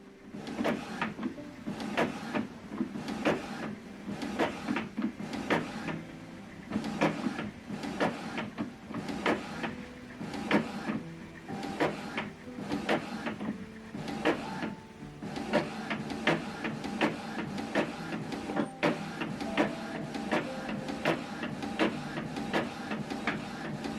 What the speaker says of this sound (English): Now this document is copying page 1.